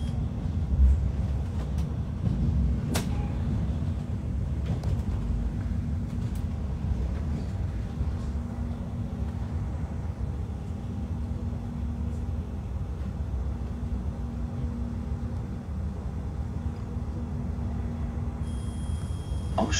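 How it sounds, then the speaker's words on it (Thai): Steady rumble of a moving German train approaching Köln Ehrenfeld station heard from inside a carriage, low and continuous, with occasional clicks and a faint tone near the end. "รถไฟ"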